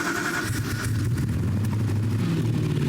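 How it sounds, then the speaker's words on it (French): A 250-horsepower Ferrari V8 on a Lazareth quad idles and revs with a buzzy, motorcycle-like tone, loud and close, running continuously without pause. "c'est que ça fait un bruit de moto, ce qui est bizarre pour un moteur Ferrari"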